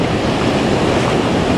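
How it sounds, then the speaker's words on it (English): Ocean surf crashes close by on an Oregon beach in autumn, a loud, continuous roar of breaking waves and rushing water with some wind noise. "It's crashing right here in front of me"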